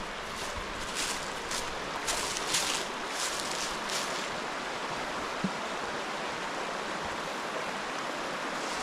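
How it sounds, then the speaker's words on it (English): A clear river below Freedom Falls in Venango County, Pennsylvania, flowing with a soft, continuous rushing wash, fairly quiet and steady, with a few brighter splashy bursts early on and no talking. "I love listening to the sounds of water."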